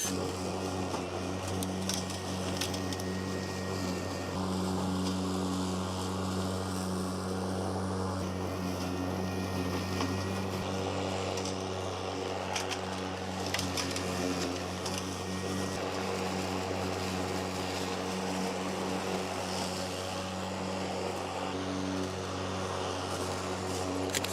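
A Honda HRX 21-inch battery-powered lawn mower runs steadily with its deck lowered to cutting level 2, a constant, fairly loud electric motor and blade hum with some broadband whoosh, continuous and without talk.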